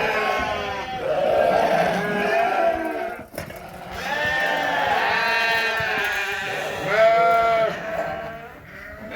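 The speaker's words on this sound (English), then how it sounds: "we've actually took a lot of sheep away, and the barns are still full" Many sheep bleating together in a full barn, a dense overlapping chorus of loud, close calls that continues throughout.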